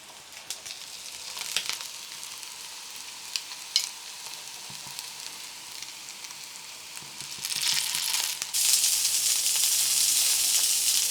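Bangude mackerel coated in masala fries in a pan over a medium flame, with scattered scrapes and shuffles at first, then a loud, steady, hissing sizzle that fills the last few seconds.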